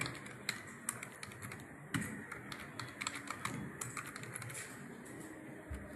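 A password being typed on a computer keyboard, a quick run of light, close key clicks and taps with a few slightly heavier strokes, no voices.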